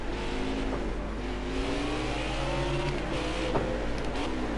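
Race car engines roaring around the Mid-Ohio track in a NASCAR racing video game, a steady, loud engine drone whose pitch rises and falls through gear changes, with no talking.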